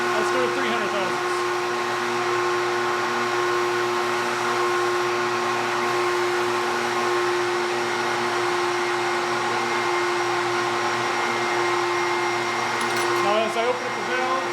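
Cylinder head flow bench running with air rushing through the machine, a loud steady whooshing drone with a constant tonal whine that holds unchanged throughout.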